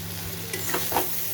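Hilsa fish head cooking with elephant-foot yam stalks in a pan, a short burst of steady sizzling frying with a spatula stirring through it, close and without talk.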